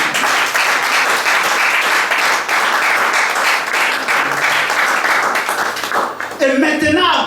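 Church congregation applauding and cheering for the Lord, a loud, dense, continuous wash of clapping from a large crowd, with voices mixed in near the end.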